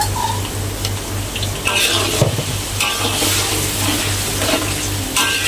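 Blended garlic and ginger sizzle and fry in a pan, with steady crackling and occasional stirring scrapes throughout.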